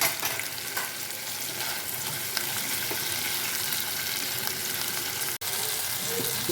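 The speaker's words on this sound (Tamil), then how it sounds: "அடுத்து தக்காளி பூ மல்லித்தலையும் போட்டுக்கலாம். போட்டு நல்லா வதக்கிடலாம்." Tomato and coriander leaves sautéing in an oiled pan with a dense, continuous loud sizzle, faint stirring clinks throughout and one sharp click near the end.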